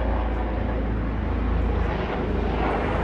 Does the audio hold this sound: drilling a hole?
no